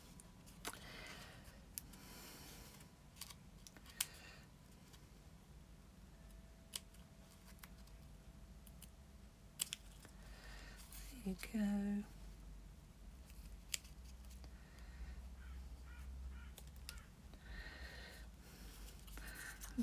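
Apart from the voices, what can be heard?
scissors cutting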